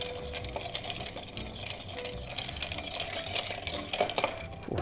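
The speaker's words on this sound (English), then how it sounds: "I think stirring is really good too" A bar spoon stirs a lemon juice cocktail over ice, a quiet, steady swirl of clinking and rattling close by.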